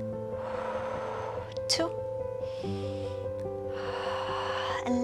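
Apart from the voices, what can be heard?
deep breathing during a Pilates workout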